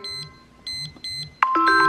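A grill thermometer's high-temperature alarm beeps in short repeated bursts, then switches to a continuous higher-pitched tone, close and clear.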